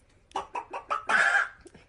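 Chicken clucking, apparently imitated by a voice as a sound effect: four short, rhythmic clucks, then a longer, louder squawk, heard up close with no talking.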